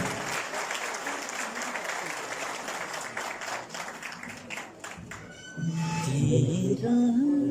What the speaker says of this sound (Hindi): तो आप सबकी भरपूर तालियों में तशरीफ लाते हैं डॉक्टर महबूब साहब।